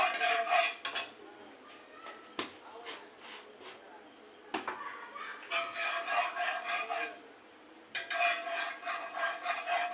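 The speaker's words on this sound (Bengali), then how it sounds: "এতে সুজিটা ভাজি করে নেবো" Semolina roasts in ghee in a hot pan, with repeated metallic scrapes and clinks of a spoon stirring against the pan in bursts, separated by brief quieter pauses.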